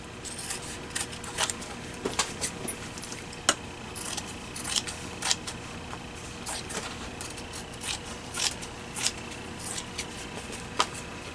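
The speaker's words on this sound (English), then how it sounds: "It would help if my scissors would work better." Close, crisp snips of scissors cutting, irregular and repeated, with small rustles of paper between cuts and no talking.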